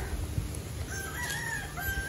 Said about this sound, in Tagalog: Nandito na yung mga manok ni brother nakatulos